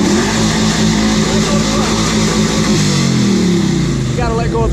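A car engine revs during a beginner's burnout attempt, holding a loud steady drone that rises and falls in pitch, with a brief voice near the end.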